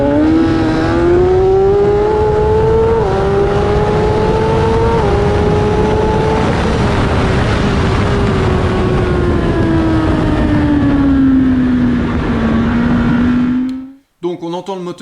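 Racing motorcycle engine revs hard and short-shifts upward through several gears, each change marked by a brief pitch drop before the tone climbs again, loud and continuous with no talk, cutting off abruptly near the end.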